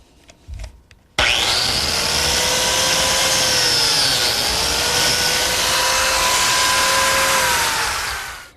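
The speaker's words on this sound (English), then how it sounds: "To make the biscuit slot, I need this auxiliary fence on my biscuit joiner" A biscuit joiner fitted with an auxiliary fence cuts a slot into a pine miter joint, a loud steady whirring buzz with a rising tonal whine that starts abruptly and holds for about seven seconds before winding down.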